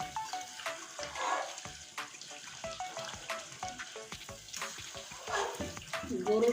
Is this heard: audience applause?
no